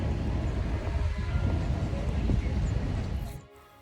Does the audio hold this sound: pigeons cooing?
no